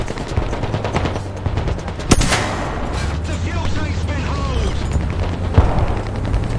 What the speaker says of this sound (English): Is somebody shooting me?